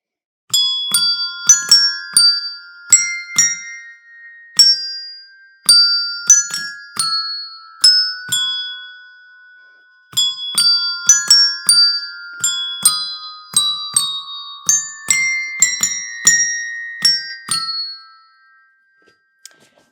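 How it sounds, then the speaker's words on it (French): A small melody rung on tuned bells at a municipal music school, clear struck tones in phrases with ringing decays, played solo and close, pausing briefly between phrases before fading out at the end. "j'ai choisi de vous interpréter une petite mélodie sur des cloches"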